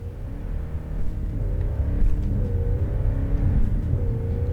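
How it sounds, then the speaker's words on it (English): A truck drives at top speed across open landscape, giving a steady loud engine rumble and whir that swells slightly as it revs, with no talk over it. "That is the sound of the truck driving across the landscape at maximum speed."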